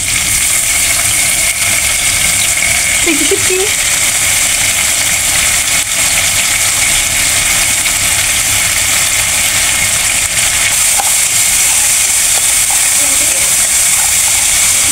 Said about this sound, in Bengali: এখন আমি ইসা শুটকিগুলা দিয়ে দিব।